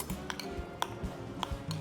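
A cumin and coriander masala mixture gets stirred with a utensil, giving several sharp metallic clinks and taps against the pan at an irregular pace, close and moderately quiet.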